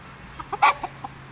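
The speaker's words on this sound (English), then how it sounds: "the chicken wants to be in the video too" A chicken gives a few quick, close clucks, one louder squawk in the middle, against a quiet background.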